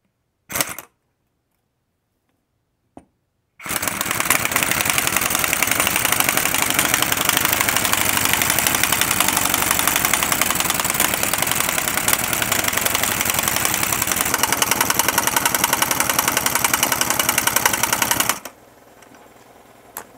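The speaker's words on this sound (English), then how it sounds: "I'm going to put the air wrench on full throttle" An air wrench running at full throttle off a compressor, during a Miata rear wheel bearing job with a spring compressor, gives a loud, steady, harsh whirring drone for about fifteen seconds after a couple of brief knocks, then cuts off abruptly.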